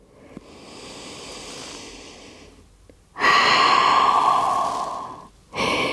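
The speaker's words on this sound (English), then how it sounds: "So take a couple of deep breaths here." Slow deep breaths during a yoga session: a long soft inhale, then a louder, fuller breath, and the start of another, close and unaccompanied by speech.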